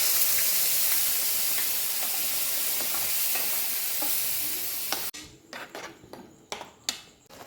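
Quail eggs in an alfaham masala mix hiss loudly in a hot pan for about five seconds, then the sizzle drops away to scattered utensil scrapes and clinks of stirring.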